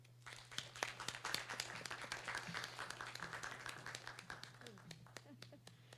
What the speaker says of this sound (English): please let's all give a round of applause for Professor Adalia Ellis.